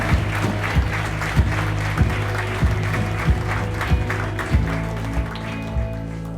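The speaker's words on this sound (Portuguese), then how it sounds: "Se você crê, dê uma salva de palmas ao Senhor Jesus." A congregation at a church service applauds in praise: a steady wash of clapping with regular rhythmic thumps, over a sustained musical drone.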